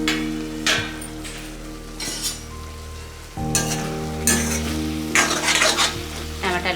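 Tomatoes for an instant tomato pickle fry in a pan with a soft sizzle while a spoon scrapes and clinks against the metal in irregular stirring strokes, close and moderately loud.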